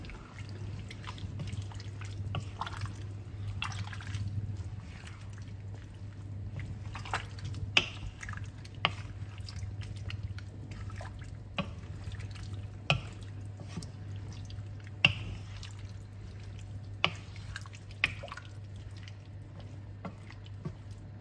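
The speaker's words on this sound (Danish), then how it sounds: "Og så rører vi rundt." Beef being stirred in a pot while cooking for a green and red curry pasta, soft wet squishing and clicking of the spoon repeating steadily over a low hum, quiet and close.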